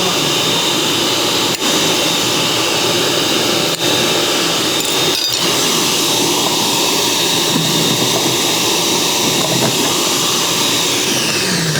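A Ninja 9 cup food processor runs loud and steady while processing potatoes, its motor straining with a hard, unbroken whine from start to end and nothing else heard.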